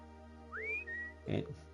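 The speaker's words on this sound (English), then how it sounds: "Innocent whistle." Innocent-sounding whistle in the video game Trails of Cold Steel: a quick rising note settling into a short held tone, followed by a brief low grunt-like vocal sound.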